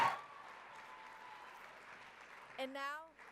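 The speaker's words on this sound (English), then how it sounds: "Another round of applause." Audience applause at an awards banquet for the Association of Junior Leagues International, a steady wash of clapping through a hall, then a brief voice near the end.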